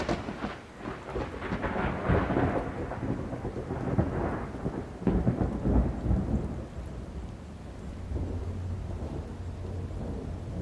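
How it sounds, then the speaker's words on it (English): Rolling thunder booms and rumbles during a storm with rain, several loud swells building and fading over a steady downpour, close and without talk. "Okay, so you're hearing that thunder."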